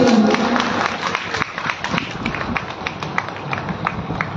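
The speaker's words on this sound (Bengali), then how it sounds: "একটা জোরে হাততালি মহারাজ ভাইকে" Loud applause from a gathered crowd at a large religious assembly in Asansol, dense clapping sustained throughout with scattered sharp claps and some background voices.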